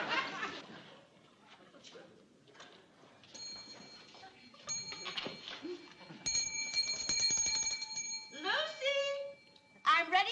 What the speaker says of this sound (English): every time she rings that bell